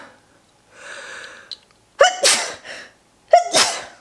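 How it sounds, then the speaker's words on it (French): A person with allergies sneezes twice, each a sharp, loud burst of breath after a quick inhale, spaced about a second apart and close to the listener, with a soft breathy sound before them. "Je vais éternuer"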